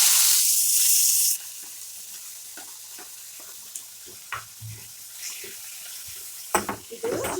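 Onion added to hot oil with mustard seeds and cumin bursts into a loud hiss, then settles into a lower sizzle broken by scattered clinks and scrapes of stirring.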